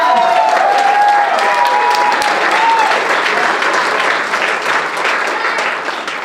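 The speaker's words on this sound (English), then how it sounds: "let's give everyone who's contributed thus far a big round of applause" Loud, sustained audience applause fills a charity gala auction hall, dense clapping holding steady throughout with a few tonal squeals of feedback or whistles early on and a murmur of crowd voices beneath.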